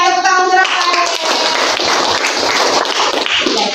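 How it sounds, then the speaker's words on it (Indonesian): Classroom clapping for a student, a dense patter of many hands close by that follows a brief spoken word and lasts about three seconds. "Tepuk tangan untuk Rafael."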